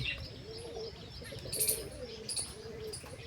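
Soft pigeon cooing and chirps with a steady low rumble of wind or outdoor noise throughout, plus a few brief high tones.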